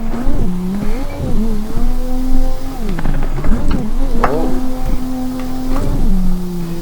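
Engine drone in a racing video game with pitch sweeps and tire squeal as the car drifts at night, running steadily and loud for the whole stretch.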